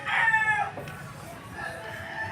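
Sambuanga white native rooster crowing once, close and loud, followed by a fainter second call.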